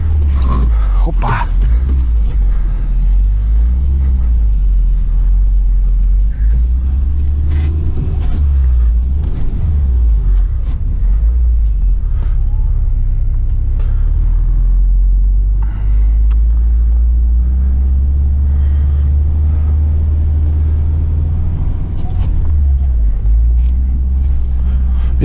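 A UAZ Patriot SUV working off-road, its engine a deep, steady rumble throughout with bumps and clatter, someone talking over it in places.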